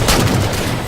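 Gunfire from a weapon in Halo 4 during an online multiplayer match, a loud, dense burst of shots filling the whole moment with no pause or voice over it.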